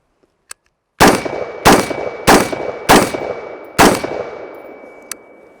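Five rifle shots fired through a SureFire WARCOMP flash hider, copper-jacketed 55 grain brass-cased rounds followed by Tula steel-cased bimetal rounds; loud, sharp cracks with ringing decay, evenly spaced roughly every half second to second, no talk.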